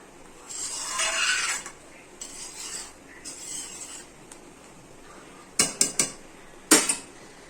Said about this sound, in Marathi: आता आपण ह्याच्यामध्ये टाकणार आहोत हे आपण केलेलं वाटण. आणि ह्याला अगदी व्यवस्थित असं मिक्स करायचं.